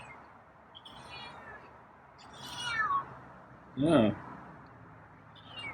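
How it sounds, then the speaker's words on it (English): A feral cat lets out a couple of meows, one drawn-out and a louder, sharper one a bit later, close by, with a person talking briefly in between. "it's a lot of meow."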